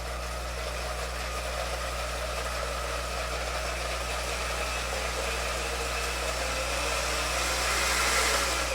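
A kitchen blender blends boiled Oaxacan salsa, a continuous loud motor whir that holds steady and then swells louder near the end as the speed is cranked up.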